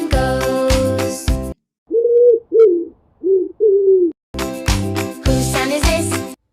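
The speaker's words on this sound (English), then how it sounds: "This is a pigeon." A pigeon coos in a short series of soft, low, rounded notes, heard alone between stretches of music.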